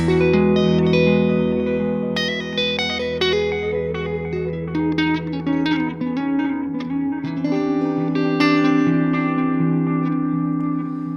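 A sustained electric guitar chord through a Strymon Brigadier delay pedal rings with a single echo repeating the notes, layered and washy, playing continuously without any voices.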